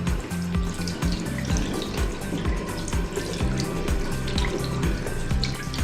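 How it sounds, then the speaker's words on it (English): Tap water runs steadily over a K&N air filter being rinsed in a sink, a continuous close splashing stream with no talking. "I'll just let it rinse a little bit more."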